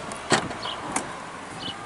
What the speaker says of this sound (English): Power liftgate.